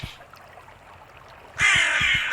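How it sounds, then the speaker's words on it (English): Crow cawing loudly in the farming game Kingdom of Hope after it eats planted seeds, several harsh caws in a quick series over soft ambient game sound. "A crow ate some of your seeds."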